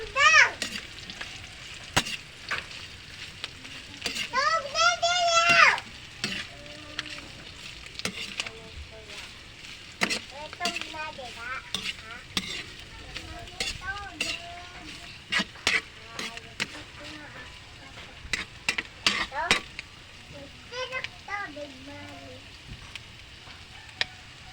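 Duck adobo sizzles and crackles in a hot pan while being stirred, a steady frying hiss with scraping stir sounds, as a voice talks over it intermittently.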